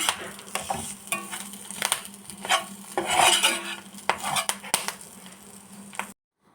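Beef (eruthu) fry sizzles in a pan under repeated metal scraping as a spoon turns it, with busy clinks and strokes close up, before the sound cuts off abruptly into silence.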